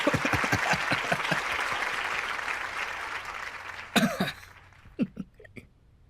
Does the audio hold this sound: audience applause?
yes